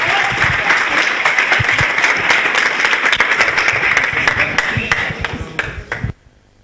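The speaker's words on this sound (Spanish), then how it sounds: "Fuerte aplauso para María Sánchez." Audience applause at a business conference event, a dense sustained burst of clapping that fills the room for about six seconds and then cuts off abruptly into near silence.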